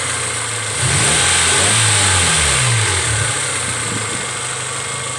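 A car engine with an oil catch can fitted idles, then is revved up so the note climbs and falls back toward idle, loud and close with no talking.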